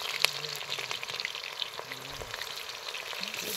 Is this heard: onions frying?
yes